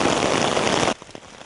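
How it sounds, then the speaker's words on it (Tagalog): Heavy rain pours down in a dense, steady roaring hiss for just under a second, then drops abruptly to a quieter, scattered patter of drops. "palakas ng palakas ang bagsak ng ulan"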